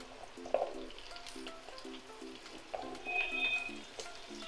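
Boiled vegetables, pumpkin, eggplant and ridge gourd, drop into hot oil with five-spice seeds, giving a faint steady sizzle with a few light clinks of a utensil against the pan.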